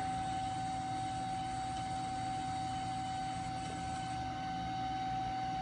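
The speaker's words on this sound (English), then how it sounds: "The machine has no alarms. It's a very, very well-kept machine, like I said. Starts right up. The spindle sounds amazing." Spindle of a Studer S20 CNC universal cylindrical grinder running, a steady, even machine hum with a constant high whine throughout, close and unchanging, with no talking.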